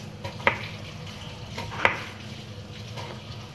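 A knife cuts apples into thin slices for apple cider vinegar, giving two crisp clicks against a steady low hiss of kitchen background.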